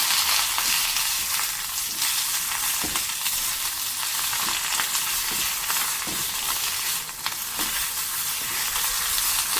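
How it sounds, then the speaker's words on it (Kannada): Herb leaves for sambar balli tambuli fry in a pan with a steady, loud, bright sizzle. Occasional soft clicks of stirring break into it, and it runs on without pause and with no voices. "ಈಗ ತಗೊಂಡಂಥ ಎಲೆಯನ್ನು ಇದರಲ್ಲಿ ಹಾಕಿ ಸ್ವಲ್ಪ ಹುರ್ಕೊಳ್ಳೋಣ."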